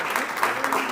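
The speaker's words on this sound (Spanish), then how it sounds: "que os demos un aplauso" Brief applause from a church congregation at an anniversary and confirmation service, a short, fairly loud spell of mixed clapping filling the room.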